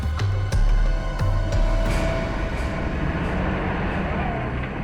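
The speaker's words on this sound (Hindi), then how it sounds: "ट्रक की आवाज? ट्रक जंगल में?" A heavy truck engine rumbles in a forest, a steady, fairly loud low drone with occasional clanks and knocks over it.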